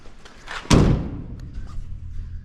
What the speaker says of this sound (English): When the door's shut